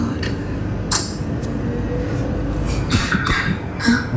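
A few short coughs break through a low, steady background hum, with faint clinks here and there.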